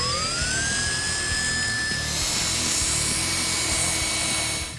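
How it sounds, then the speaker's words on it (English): A power drill bores a pilot hole through the metal bumper bar of a 2013-2016 Ford Focus ST during a front mount intercooler install, a loud steady whine with rising pitch and grinding texture running throughout. "Drilling through it is going to take some time."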